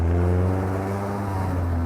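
A Lotus 7 replica sports car engine hums steadily at a low, sustained idle-like drone, close and continuous with slight revving swells, no voices.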